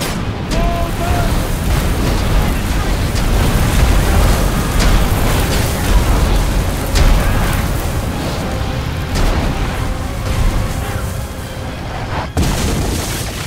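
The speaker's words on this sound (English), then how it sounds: "Fire on my command. Catapults. Fire." Catapult volleys in Ryse: Son of Rome fire and burst in repeated heavy booms across a dense, continuous battle din, with a sharp impact near the end and faint voices mixed into the roar.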